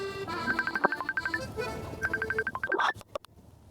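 A phone ringtone plays a repeating melodic electronic tune for a few seconds before it stops.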